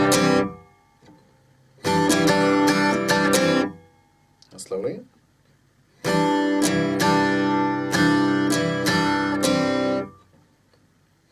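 Acoustic guitar plays the opening lick of a song in two loud, bright strummed phrases separated by a pause, with a brief spoken aside between them.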